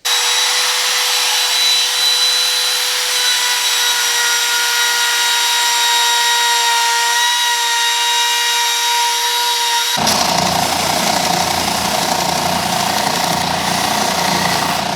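A power router cuts a wooden zero clearance insert plate for a table saw, giving a loud steady high whine with strong tones for about ten seconds before shifting abruptly to a rougher, broadband cutting roar; no talking.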